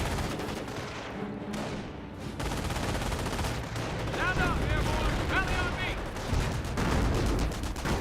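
Sniper and other gunfire crackles in the World War II strategy game Company of Heroes, repeated shots and rattling bursts with rumbling booms, heard under a commentator's voice.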